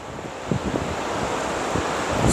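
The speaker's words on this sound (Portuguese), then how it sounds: "você escuta o barulho das ondas, tá pegando um ventinho" Ocean surf rolls onto a beach below an open seafront balcony in a city centre, a broad wash of breaking waves mixed with gusty wind buffeting the microphone.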